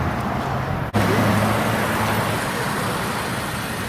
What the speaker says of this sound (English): We've got cars coming in now for the food drive they got going on here